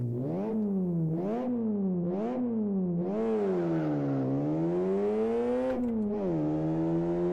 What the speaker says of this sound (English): So this is a VW Beetle. It's obviously race spec tuned.